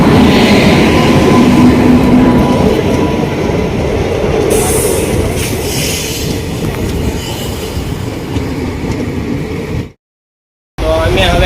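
A train pulling into a station, a loud rumble of rail cars with squealing wheels and clattering track noise that eases off before a brief drop to silence.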